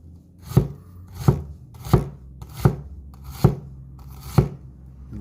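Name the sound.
knife slicing onion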